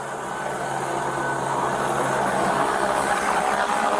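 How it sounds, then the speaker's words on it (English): A helicopter passes overhead during a police incident at night, producing a steady broad engine and rotor drone that swells slightly. It stays continuous and fairly loud throughout, with no speech. "You can hear the chopper overhead."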